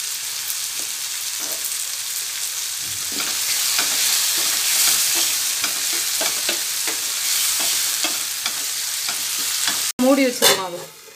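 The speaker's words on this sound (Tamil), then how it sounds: "தக்காளி நல்லா ஃப்ரை ஆயிடுச்சு." Finely chopped tomatoes with salt frying in a pan for a brinjal gravy, a steady loud sizzle with repeated spoon stirring scrapes, ending in a brief sharper clatter.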